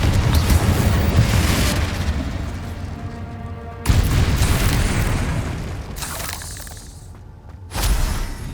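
Explosive Confringo spell blasts in Hogwarts Legacy gameplay, heavy booming bursts with shattering debris, one near the start and another midway, then a sharper burst near the end, loud and without talk.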